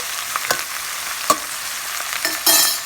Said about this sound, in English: We should mix it thoroughly.